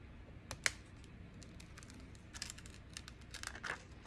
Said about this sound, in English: let's peel off our paper